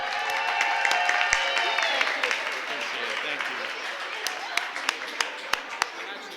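Applause from an audience at a reception for the 30th annual Black Swim Meet, with Mayor Bowser present: a steady wash of many hands clapping fills the room, with a few sharper individual claps standing out near the end.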